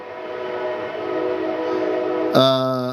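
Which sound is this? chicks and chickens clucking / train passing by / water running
train passing by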